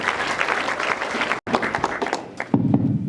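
A church congregation claps in a dense, lively burst of applause that briefly breaks off and then resumes, with a voice rising near the end.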